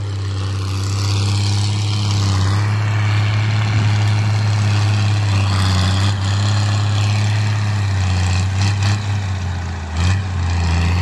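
A Valtra 1280E tractor engine running under heavy work, a loud, steady diesel drone with a strong low hum that holds unbroken for the whole stretch, close to the machine with no talk.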